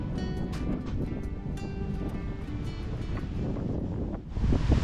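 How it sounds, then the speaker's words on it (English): Strong wind in the village of Kirkby la Thorpe buffets the microphone in a constant loud roar, with gusty rumbling throughout and a heavier blast near the end. "it's really windy here today"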